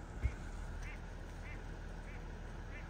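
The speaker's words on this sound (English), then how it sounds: "there's a ton of birds over there" Ducks in a flock quack out on snowy open ground during a snowstorm, a series of faint, evenly spaced calls at a distance over a low background rumble.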